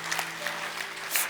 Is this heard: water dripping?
no